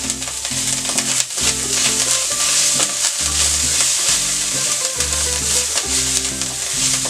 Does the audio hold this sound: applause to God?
no